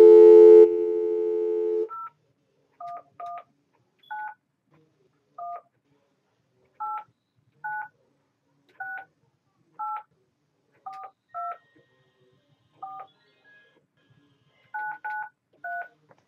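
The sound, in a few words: telephone dialing tones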